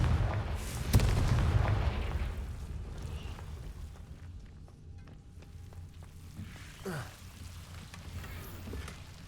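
Confringo fire spell cast in Hogwarts Legacy, a sharp booming blast near the start followed by softer crackling rumbles and lingering game ambience, with a voice calling the spell name.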